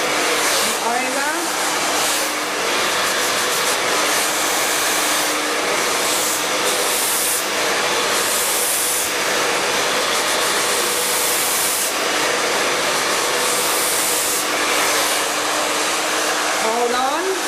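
A hair dryer blows loud and steady at close range while short hair is styled, its constant whoosh rising and dipping slightly as it moves, with a voice faintly underneath.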